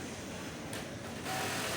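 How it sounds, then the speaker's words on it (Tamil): A sewing machine stitches elastic onto a top with a fast, even mechanical whirr, close by and steady, growing slightly louder toward the end. "கட் பண்ணதில் இப்போ தையல் போடுறாங்க"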